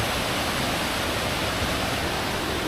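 Water rushes steadily down a rocky stream at a forest recreation park near Ipoh, Perak, a dense continuous wash filling the whole stretch without pause, close and fairly loud, with no voices.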